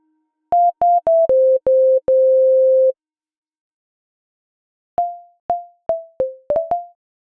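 A pure, sine-like synth plays a short stepwise liquid drum and bass melody of quick notes and one held tone, then repeats a plucky phrase after a pause.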